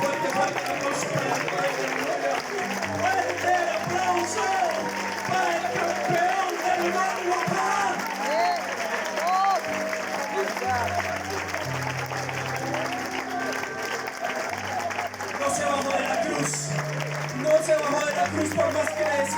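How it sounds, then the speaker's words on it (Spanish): Sustained applause and crowd noise for the champion fill a Spanish-language church service, steady throughout with a voice talking over it and low music underneath. "Fuerte aplauso para el campeón."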